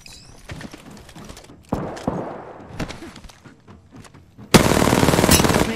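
Automatic weapon fire in the video game Apex Legends, with scattered shots and clacks early on, then a loud sustained burst of rapid gunfire near the end, without speech.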